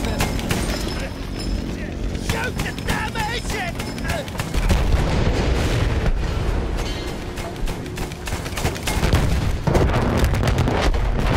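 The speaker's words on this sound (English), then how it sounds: "Shoot the damn agent!" Dense gunfire and booming blasts from the Battlefield One campaign on Xbox One crackle continuously, with voices talking over the battle.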